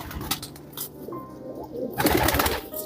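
An old Lucknow-breed pigeon gives soft, throaty coos in short bursts, close by and without any voices.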